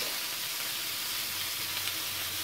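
Homemade smiley potato fries frying in hot oil, a loud, dense, continuous sizzle and hiss heard up close with no break and no voices.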